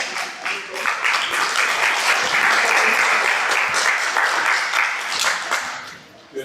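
Audience applause at a fourth-grade school performance, a dense, loud wash of many hands clapping that swells and holds for several seconds before tapering off.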